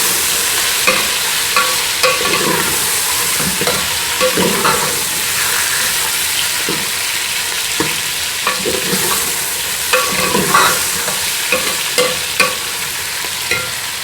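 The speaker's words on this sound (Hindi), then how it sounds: "इसको मैं अच्छी तरह से भूनूंगी।" Green beans and one kilogram of chicken stirred and fried in a pan, giving a steady loud sizzle broken by repeated scraping spoon strokes in an irregular rhythm, with no talking.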